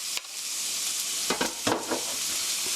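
Chopped onion and garlic sizzle in a pan, with a steady frying hiss broken by several scraping stirs of a utensil, close and clear.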